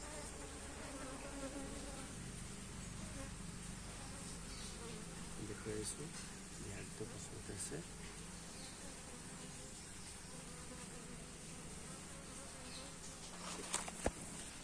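Steady, dense buzzing of honeybees fills the whole stretch, with a person speaking briefly underneath and a couple of sharp knocks near the end.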